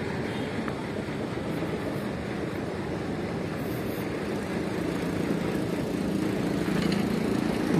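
A bus with an old Mercedes-Benz 1626 engine runs at idle, a steady low diesel rumble that swells slightly louder toward the end, with no talking.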